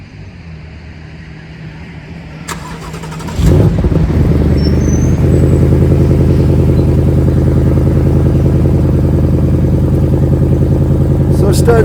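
A 2020 Ford Mustang Bullitt with a six-speed manual cranks and fires up with a sudden loud roar, then settles into a steady, deep, rumbling idle that continues strongly, heard up close.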